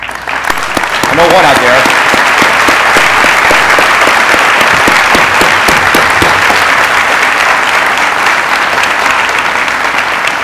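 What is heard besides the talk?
audience applauding veterans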